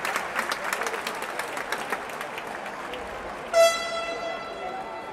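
A basketball arena crowd claps steadily for Emin Mavric of Viola as he is substituted out, a dense patter under an announcer's voice, cut by a loud horn blast near the end.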